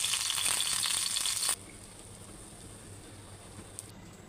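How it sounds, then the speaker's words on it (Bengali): Fish fry in hot oil in a wok with a loud, dense sizzle that cuts off sharply partway through. A quiet background hiss remains after it stops. "আমি কড়াইতে তেল দিয়ে মাছগুলো আগে ভেজে নিব"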